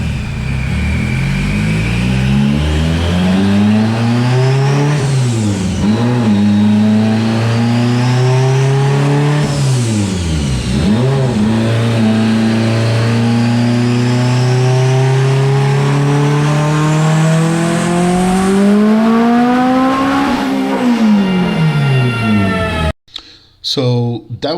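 A Mitsubishi Evo X with a Darton-sleeved engine and a PTE 7275 turbo revs hard on a dyno. The loud engine climbs in pitch through several pulls, drops back each time, then cuts out abruptly near the end.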